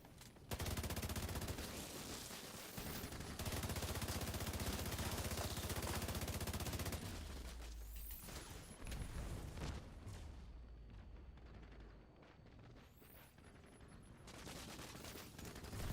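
Light machine gun fire in The Division during a Dark Zone fight, dense sustained bursts that are loud and continuous, with dips and pauses in the later part.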